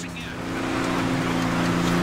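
Truck engine revving and driving in Grand Theft Auto V, a steady droning motor that builds in loudness over two seconds while someone talks over it.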